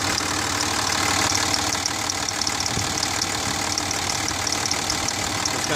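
2006 Cummins diesel engine at idle with a ticking noise: a steady, close diesel rumble with a faint, rapid, regular tick running under it throughout.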